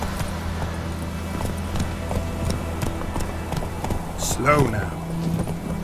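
Hooves of a horse in The Witcher 3 video game clop steadily under a low game soundtrack, with a rider speaking briefly near the end.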